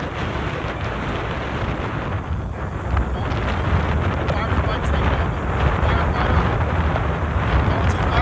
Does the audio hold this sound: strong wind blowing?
yes